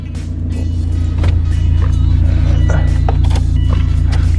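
A Subaru STi engine idles close by with a steady, low, throbbing rumble that rises slightly in level after the first second and then holds, with no talking.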